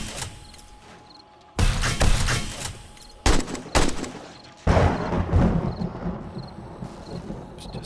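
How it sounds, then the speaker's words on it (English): Bursts of gunfire from the zombie survival game 7 Days to Die, Alpha 18 stable build, played solo at night: three sudden loud volleys of rapid shots with rumbling tails, separated by quieter stretches of game ambience. "Shoot some zombies."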